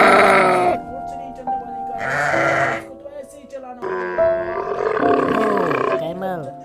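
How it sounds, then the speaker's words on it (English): Grazing goats bleat in several loud, drawn-out calls separated by short pauses, close and clear over a quiet outdoor background. "Look at these goats. They are grazing."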